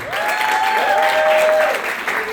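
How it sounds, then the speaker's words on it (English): An audience at a youth conference at the Serena hotel bursts into steady applause, with high, sustained vocal cries ringing over the clapping. "Let's give him a very big hand clap."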